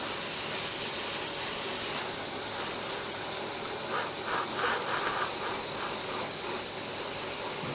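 An airbrush or spray can hisses steadily for several seconds, a continuous close spray with no talking, lightly painting light gray down the center of a model Union Pacific SD70 locomotive roof.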